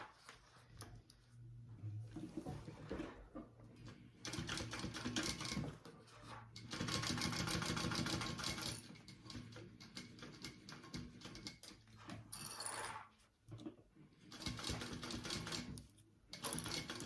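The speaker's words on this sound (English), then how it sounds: "as you top stitch, you're sewing this into it" A sewing machine top stitching a sling runs in several rapid mechanical bursts, with short quiet pauses between runs and one long, loud stretch in the middle.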